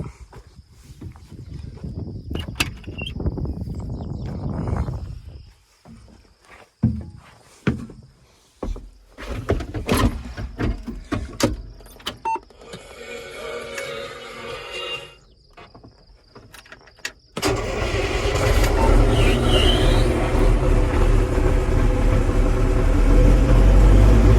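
An old tractor engine cranks with clicks and clunks, then catches at about 17 seconds and settles into a loud, steady, close-up running roar that lasts to the end.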